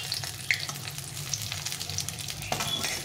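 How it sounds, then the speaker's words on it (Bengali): Potato and pointed gourd fry in oil, giving a soft steady sizzle with light crackles and pops and an occasional scrape of stirring, fairly quiet and close, with no talking. "তো আলু পটলটা ভালো করে ভেজে নিলাম লাল লাল করে"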